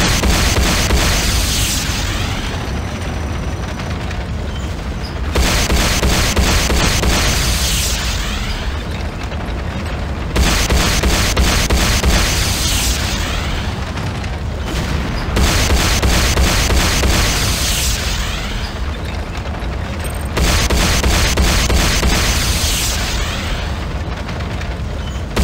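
Heavy explosions boom repeatedly during an attack in Command & Conquer Renegade, loud rumbling blasts arriving in roughly five-second waves with brief quieter lulls between, no voices over them.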